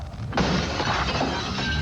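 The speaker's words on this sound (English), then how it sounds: "break the window on the ground level floor" A ground-floor window shatters with a sudden crash, followed by a sustained tinkling spray of breaking glass, loud and close with no talk.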